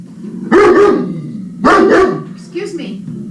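Three loud, close dog barks sound in quick succession, the last one softer, in a short burst with no talk.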